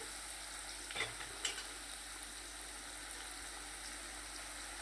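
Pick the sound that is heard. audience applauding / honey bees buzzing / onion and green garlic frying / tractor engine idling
onion and green garlic frying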